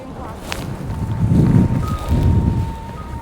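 Wind blowing across a walking stick on a hike produces a thin, steady whistling tone that rises out of rough, gusty wind rumble close to the microphone.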